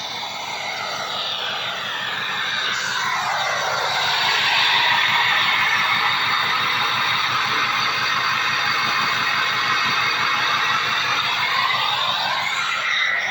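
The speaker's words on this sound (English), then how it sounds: "let's just go listen to that turbine before I let you guys go. It just sounds so good." A car fitted with a turbine-style exhaust tip and a modified rear bumper gives a steady, loud whooshing drone that swells after a few seconds, then holds, heard close up with no talking.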